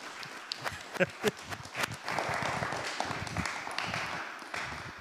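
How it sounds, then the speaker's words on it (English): Scattered individual claps start up at a small community gathering after a soundwalk presentation, then swell into fuller, steady applause from a modest audience at moderate distance, with some murmured voices beneath. "Let's give Norman a big round of applause."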